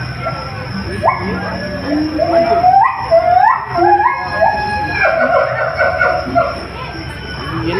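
Several dogs bark and howl in rising, wavering cries, close by at an exhibition, with overlapping yips and whines and background voices.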